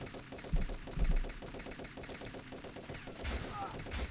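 An enemy mini boss in Turok 3 fires a machine gun, a rapid, even stream of sharp shots with a few heavier thumps early on, moderately loud and continuous throughout.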